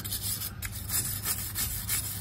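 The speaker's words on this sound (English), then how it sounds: "we're gonna go with a wire brush, put some goggles on so you don't get anything in your eyes, and give this a little brush down" A wire brush scrubs a Porsche Boxster S rear brake hub during a rotor and pad replacement, giving a steady rasping, scratching rub in repeated strokes, close and fairly loud with no talk.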